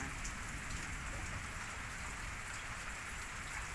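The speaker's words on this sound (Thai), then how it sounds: "ตอนนี้ฝนตก" Steady rain falls in a dense, even hiss, pattering on surfaces with no gaps or voices, fairly quiet and close.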